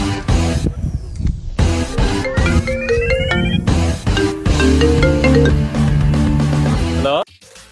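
A phone ringtone plays loudly and continuously as a melodic tune with bright tones, close by, then cuts off abruptly near the end.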